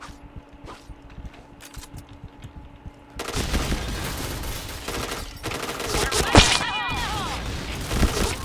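Gunfire in a video game, quieter scattered shots at first, then dense loud rapid automatic bursts and impacts, with a voice heard briefly.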